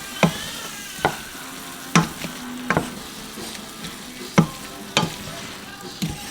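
Garlic sizzles in a pan of meaty spaghetti sauce as a spoon stirs it, a steady frying hiss broken by regular scraping knocks against the pot.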